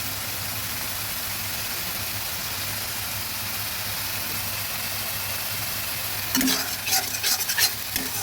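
Koi fish fry in oil with slit green chillies in a steady, dense sizzle, then a spoon stirs the pan near the end, adding quick scraping clatters over the frying.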